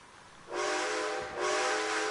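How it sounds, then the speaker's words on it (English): A steam locomotive's whistle in the Western video game Red Dead Redemption 2 blows two loud, sustained chime blasts, the first of them beginning about half a second in, with a short dip between them. "That's your whistle."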